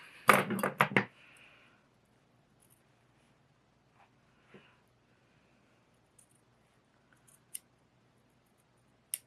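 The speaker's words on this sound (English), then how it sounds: "I'm going to cut a curve right through there" Scissors cut a curve through backing material for unframed artwork, with a quick run of crisp snips at the start, then near silence broken by a few faint, isolated clicks and rustles.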